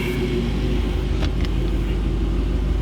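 Mustang with a Corsa exhaust, a loud close rumble with a slight rev rise, heavy low engine tone throughout.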